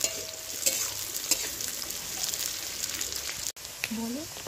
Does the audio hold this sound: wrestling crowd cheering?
no